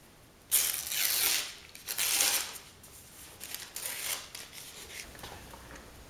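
Masking is peeled and torn away from a freshly dried spray painting, a few close, crisp ripping and crinkling bursts separated by brief quiet pauses.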